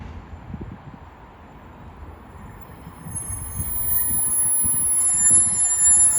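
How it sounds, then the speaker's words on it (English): A DC Rail Class 60 freight train at Didcot Parkway on the Great Western Main Line, a low rumble gradually building as it approaches, with faint high squeals of wheels on rail. "our next freight train of the day will be a DC Rails Class 60 going from Typhington to Creighton Railhead."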